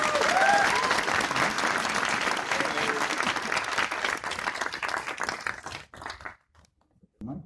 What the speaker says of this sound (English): I think that deserves one more round of applause.